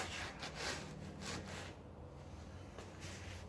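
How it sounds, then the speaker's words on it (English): Scrubbing and wiping down a BMW E36 parts car, with steady rough rubbing strokes close by, several brisk bursts in the first half, then a softer continuous rub with no talking. "We're just gonna get in there, scrub it, wipe it down."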